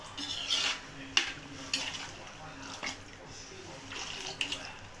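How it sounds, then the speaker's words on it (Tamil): Water poured into a pan of egg curry, a soft continuous splashing with a few brief clinks of utensils against the pan, close and moderately quiet. "இப்போ நம்ம என்ன செய்ய போகிறோம்னா தண்ணி சேர்க்க போகிறோம்"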